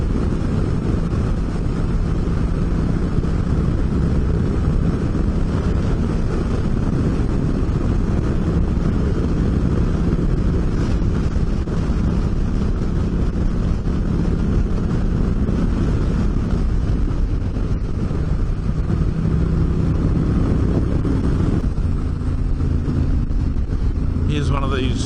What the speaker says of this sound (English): I don't know whether you can hear that wind in the helmet.